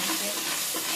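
A pinch of asafoetida and turmeric is stirred into a pan while frying, making a brief, faint, hissing sizzle up close.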